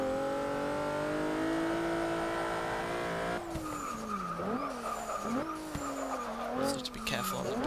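Engine of a 2014 Volkswagen Golf R in Forza 6 revs loudly and steadily, then shifts and surges through rising and falling pitch sweeps with squealing tires, a voice speaking over the car throughout.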